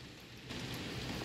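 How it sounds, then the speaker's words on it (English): Heavy rain from a summer rainstorm pours down in a continuous broadband hiss that swells louder halfway through, with no voices. "Mother Nature has, you know, brought us a rainstorm."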